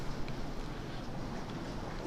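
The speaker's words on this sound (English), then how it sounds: "it is now starting to rain pretty heavy outside" Heavy rain falls outside, heard from indoors as a steady, even hiss that stays constant and fairly faint throughout.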